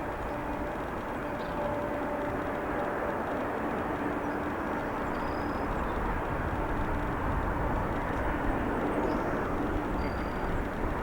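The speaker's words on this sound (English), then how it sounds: "Air India 777, gonna be making it all the way to the end of the runway here." An Air India Boeing 777 jet rolls down the runway at O'Hare, a broad steady engine roar heard from a distance that holds evenly throughout.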